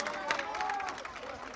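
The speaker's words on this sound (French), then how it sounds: "Camarades, applaudissez fort!" A crowd at a patriotic civil-society rally claps amid a dense wash of voices and cheering, steady and moderately loud throughout the short stretch.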